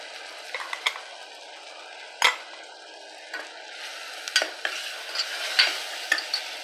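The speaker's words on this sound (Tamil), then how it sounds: "இந்த அரைச்ச மசாலாவெல்லாம் போட்டு நல்லா வதங்கிடுது" Ground ginger-garlic masala paste fries in a pan with onion and tomato for egg biryani, giving a steady close sizzle broken by several sharp scrapes and clinks of a spoon stirring against the metal.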